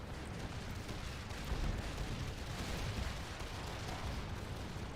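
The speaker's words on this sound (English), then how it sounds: "Just fire your damn guns." Massed musket volleys from grenadier infantry in a Total War battle set in South America, a continuous dense crackle of gunfire with heavy booming bursts, steady and loud throughout with no speech.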